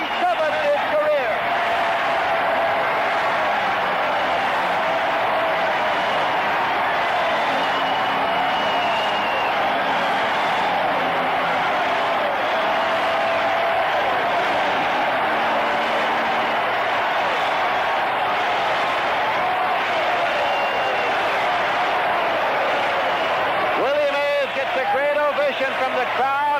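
A baseball stadium crowd roars and cheers for Willie Mays's 647th career home run, hit over the left field wall. The loud, unbroken ovation lasts throughout, with an announcer talking over it.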